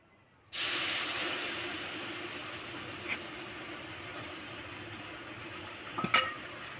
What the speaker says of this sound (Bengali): এবারে কড়াইয়ে দেবো আখের গুড়।